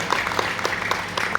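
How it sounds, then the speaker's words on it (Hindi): Short burst of audience clapping at a public speech event marking Ambedkar's birth anniversary, a scattering of distinct claps over a steady room murmur, close and moderately loud. "एक बार जोरदार तालियों से सर का सम्मान करें"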